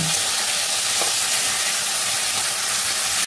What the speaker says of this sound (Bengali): এই আলুগুলোকে দিয়ে দেবো। আলুগুলোকে ভাজবো।